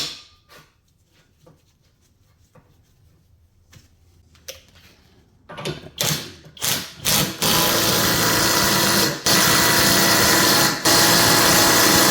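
A tool's engine given more throttle: after scattered clicks and clanks, it catches and roars up in a few bursts, then settles into a loud, steady high-revving drone that continues to the end, briefly dipping once.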